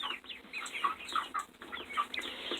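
Several two-week-old chicks, five Araucanas and two light Bantams, cheep and peep in quick, overlapping bursts close by, a steady busy chatter with no talk.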